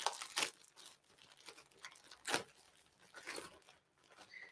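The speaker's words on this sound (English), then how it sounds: "I'm going to unwrap it right here for you." Wrapping paper tears and crinkles as a kitchen gadget gift is opened, with a few quick rips and crumples separated by quieter rustling, soft and near.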